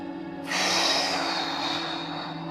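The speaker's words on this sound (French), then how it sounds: "On inspire par le nez, on expire par la bouche." A person breathing during a beginner tai chi session draws a sharp, close audible breath through the nose, followed by a sustained, soft airy exhale.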